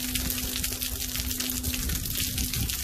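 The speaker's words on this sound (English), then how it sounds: "Here we have the turning of the turbine, catching the water flow." Water rushes steadily through a hydroelectric turbine, a loud continuous gushing flow with a faint steady hum running underneath.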